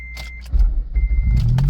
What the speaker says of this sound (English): let me go ahead and start up the car